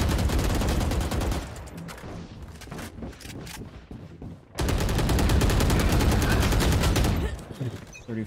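Bursts of rapid gunfire in the video game Valorant, loud and close, two long stretches of fast automatic shooting with a quieter gap between, with people talking over it.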